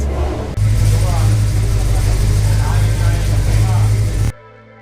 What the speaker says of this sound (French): il y a un moteur qui ronronne